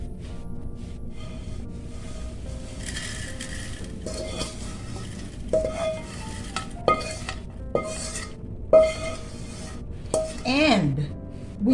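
Fried dilis fish scooped from a pan into a strainer, with repeated clinks and scrapes of utensils against metal over a low sizzle, close up.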